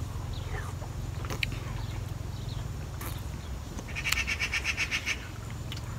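Birds chirp outdoors in short bursts over a low background hum, with a quick series of repeated bright calls near the end.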